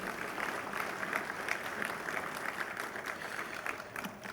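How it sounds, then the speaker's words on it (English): A conference audience applauds farmers, a soft steady patter of many hands clapping, distant and continuous for several seconds. "So maybe a round of applause for them."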